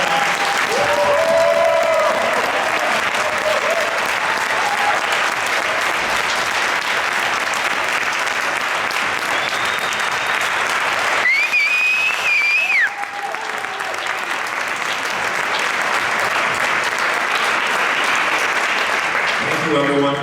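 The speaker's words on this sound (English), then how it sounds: "can I get a nice round of applause for all these young people here before us?" At an Arbor Park National Junior Honor Society ceremony, an audience applauds the students with loud, sustained clapping that fills the room, joined by a few whistles partway through.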